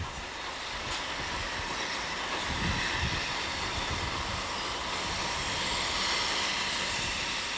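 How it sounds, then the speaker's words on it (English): A train arriving at Damhams, a small station on a single-track British branch line: a steady, fairly distant rumble with a faint clickety-clack of wheels on rails, continuous throughout, with no voices. "Here is a train arriving at Damhams, 2 miles up the line."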